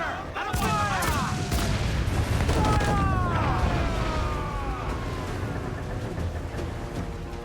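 Ship cannons boom in Assassin's Creed Black Flag amid dense naval combat noise, with heavy low rumbles layered under shouting voices and swooping whistling effects throughout.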